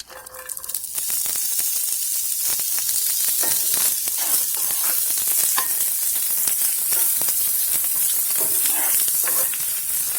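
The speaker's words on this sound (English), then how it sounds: "Then heat your oil, and then saute your onions." Onions sautéing in hot oil for vegan tacos, a loud, steady sizzle that bursts in at once and continues close up, with crackling pops and occasional stirring throughout.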